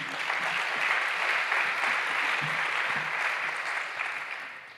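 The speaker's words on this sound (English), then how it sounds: "Big applause, please." Steady applause from a conference audience at a plenary session, a dense wash of clapping that holds evenly for several seconds and then eases slightly.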